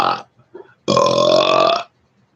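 A man lets out a short burp followed by a long, loud, sustained belch lasting about a second, close to the listener, then silence.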